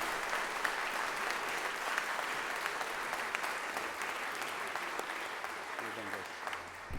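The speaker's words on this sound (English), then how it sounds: "let's give them another round of applause as we go out." Applause for students at a Halloween chapel service, a sustained round of clapping from a large indoor congregation, steady and dense for several seconds with some voices mixed in.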